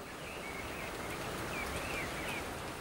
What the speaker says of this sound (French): La pluie commence à tomber.